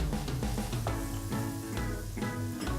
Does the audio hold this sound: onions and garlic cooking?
yes